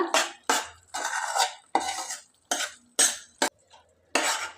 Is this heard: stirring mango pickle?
yes